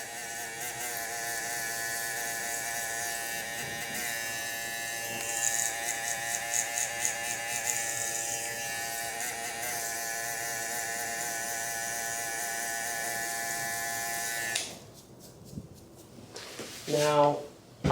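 A close electric hair clipper buzzes steadily while trimming along the hairline during a men's hair system reapplication, with brief tapping bursts, then stops near the end amid a few short handling noises.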